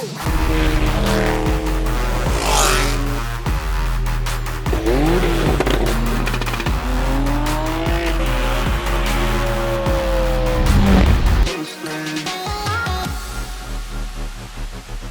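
A Subaru WRX launches hard and accelerates, its loud engine climbing in repeated rising revs through the gears with tires squealing, then the engine note drops sharply near the end.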